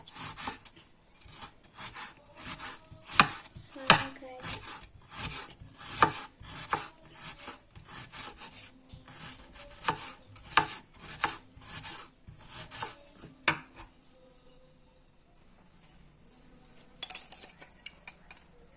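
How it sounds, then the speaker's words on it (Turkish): Rapid, steady knife chops of red cabbage on a cutting board, a long run of crisp evenly spaced strikes, close up, pausing briefly near the end before a few more cuts. "Öncelikle lahanalarımızı ince ince doğrayalım arkadaşlar."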